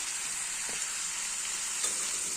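Spices, salt, chilli powder and turmeric stir-fried with data greens in a pan, a steady close sizzle with a couple of soft stirring scrapes, no talking.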